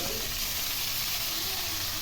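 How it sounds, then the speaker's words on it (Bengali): A steady, dense sizzle of rohu fish pieces frying in hot oil, continuous and close, with no voices. "এর মধ্যে রুই মাছের পিসগুলো দিয়ে ভালো করে ভেজে নেব"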